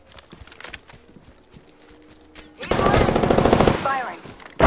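Gunfire in the battle royale shooter Apex Legends: a sudden burst of rapid automatic shots after a quieter stretch of scattered clicks and footsteps, loud and close, running for nearly two seconds before cutting off.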